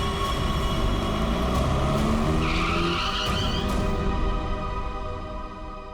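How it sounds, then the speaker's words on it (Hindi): A car skids and brakes hard to a stop mid-road, a loud sustained screech with squealing tones over engine rumble that fades out toward the end. "बीच सड़क में गाड़ी क्यों रोक दी?"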